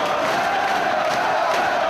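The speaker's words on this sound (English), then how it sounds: "This Boston crowd coming alive!" Boston wrestling crowd at a Ring of Honor show, a dense, steady roar of cheering and chanting filling the arena with no break.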